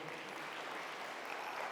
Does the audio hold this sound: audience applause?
yes